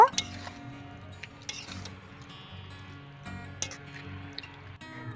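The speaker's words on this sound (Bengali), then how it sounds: "এবার এখানে নর্মাল জল দিয়ে দেব এবার খুব ভালো করে নেড়ে নেব" A spoon stirs lapa greens with added water in a pot, giving soft scraping and intermittent metallic clinks against the pan with light liquid sloshing, close and fairly quiet.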